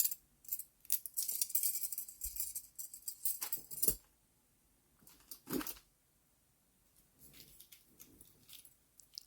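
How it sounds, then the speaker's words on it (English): A metal bag lock for a crocheted bag is handled, giving bursts of bright metallic clicks and jangles in separate clusters, fairly close and without speech. "I'm going to be using this bag lock"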